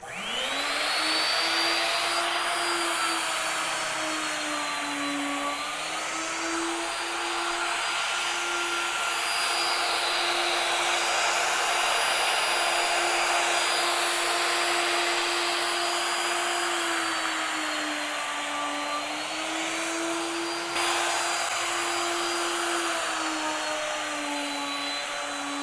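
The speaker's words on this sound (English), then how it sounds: "A router starts driving, it becomes dangerous." Wood router cutting a live edge slab for a coffee table, a loud continuous high whine that holds steady for the full length with slight pitch dips as it moves along, close and without talk.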